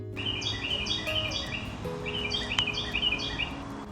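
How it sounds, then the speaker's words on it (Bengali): Birds on a spring morning around dawn, heard from a quiet balcony, give repeated bright chirps and short tweeting phrases in clustered bursts over a faint, calm background. "এই সময় পাখির আওয়াজ ছাড়া কিছুই শোনা যায় না।"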